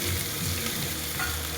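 Ingredients for garlic rice hit hot oil in a loud, dense, continuous sizzle that fills the whole short moment without pause.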